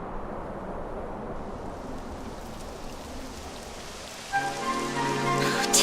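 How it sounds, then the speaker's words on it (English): Steady rain falls in Dragon Quest 11 gameplay on Xbox Series X, a dense continuous hiss with no talk, and tonal game music rising over it in the final second and a half. "It would have to go and start raining, wouldn't it?"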